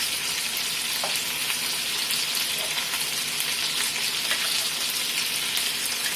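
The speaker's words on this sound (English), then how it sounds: "I already flipped them and frying them on the other side." Chicken thighs fry in butter in a skillet after being flipped, giving a steady, close, continuous sizzle and crackle with light scattered pops throughout and no talking.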